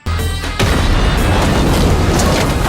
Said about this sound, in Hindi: शाही तोप से एक दफा फिर त्राबजोन यानी कि पोंतुस पर हमला किया गया